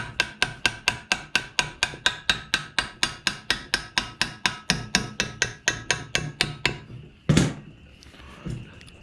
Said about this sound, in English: you don't want to be hammering on it too much and mushroom that axle out